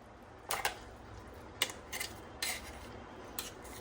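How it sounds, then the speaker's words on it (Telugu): Coarsely ground ivy gourd chutney scraped from a mixer jar into a bowl, a few faint scattered clinks and scrapes of a spoon against the container over a low steady background hum. "మిక్సీ పట్టుకున్న మిశ్రమాన్ని మనం ఒక బౌల్లోకి ట్రాన్స్ఫర్ చేసుకుందాం"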